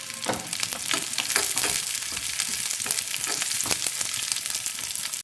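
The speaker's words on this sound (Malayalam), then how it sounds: "ഒരു ഗോൾഡൻ നിറമാവുന്നത് വരെ ഇതിനൊന്ന് ഇളക്കി കൊടുക്കാം." Onions and curry leaves sautéing in hot oil in an iron kadai, a steady sizzle broken by repeated scraping strokes of a spoon stirring, close and clear with no talking.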